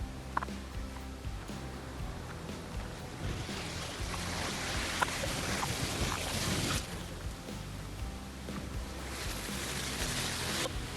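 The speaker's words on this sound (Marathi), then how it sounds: "या वॉटरफॉलचा फ्लो बघा" A hidden waterfall in Karjat roaring with heavy flow, a loud, dense, continuous rush of water mixed with wind buffeting the microphone, steady across the whole stretch with no voices.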